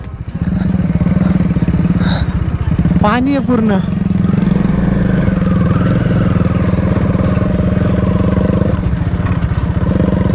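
An off-road-modified motorcycle engine idles with a steady, loud mid-pitched drone close by, while people talk over it and a brief whining sweep rises in the middle.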